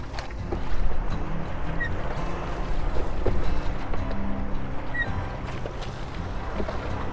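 A dory boat running out of Marblehead Harbor, lifted along by another vessel's wake: a steady rushing wash of water and hull noise with wind buffeting the microphone, loud and continuous.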